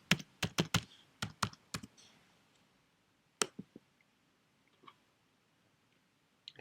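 Crisp, close clicks of someone typing a password on a computer keyboard come in a quick flurry of keystrokes, then a short pause, then a few scattered, softer taps.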